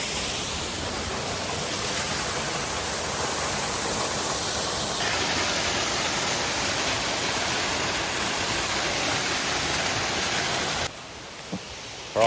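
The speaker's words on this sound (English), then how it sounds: "just climbing up to this fourth and final waterfall" A rainforest waterfall pours steadily in a continuous broadband rush, loud and unbroken, with a brief quieter, shifted patch near the end.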